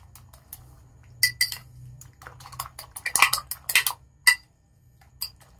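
A spoon beats an egg mixture seasoned with black pepper in a bowl, making irregular clinks and taps against the sides in quick bursts with brief pauses. The sound is close and crisp, and nobody speaks.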